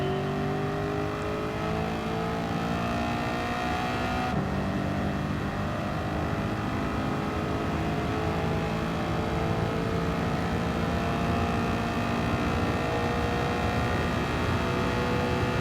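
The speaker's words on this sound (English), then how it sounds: "That engine sounds beautiful" A 2009 Corvette ZR1 engine in a racing video game roars steadily, revving with rising and falling tones as it accelerates, loud and continuous with no talking.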